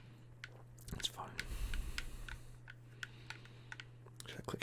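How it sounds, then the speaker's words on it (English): Light plastic clicks from a lightweight, non-weighted video game controller sound close and soft, scattered in quick irregular taps with a steady low hum underneath. "That clicking sound as well."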